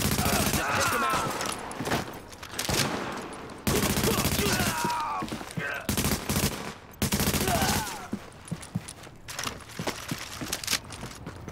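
Bursts of automatic gunfire rattle almost continuously during a firefight in Tom Clancy's The Division on PC, dense and loud with brief breaks, with voices shouting over it.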